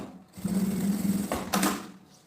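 A nearby sewing machine runs a quick line of stitches over bias binding on a small organizer pouch, giving a single busy rattling burst of about a second that ends with a couple of sharp clicks.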